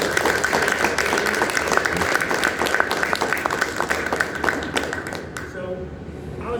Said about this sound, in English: So a nice big round of applause.